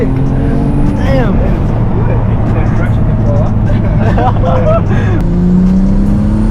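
A turbocharged Nissan G35 with a big Precision 6262 turbo accelerates hard at a GTR festival in New Zealand, its engine a loud, continuous roar while people talk close by.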